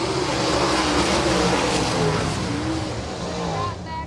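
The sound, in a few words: super sprint race cars starting a heat at Winston Speedway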